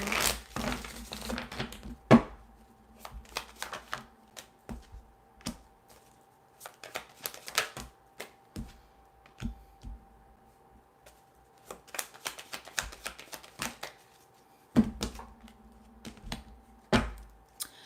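Tarot cards are shuffled in quick riffling bursts, crisp papery flutters and slaps coming in clusters with short pauses between, close and fairly quiet, with no talking.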